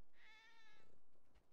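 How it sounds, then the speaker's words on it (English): A cat in a cat cafe gives one clear, drawn-out meow close up, rising and then fading. "cat meow"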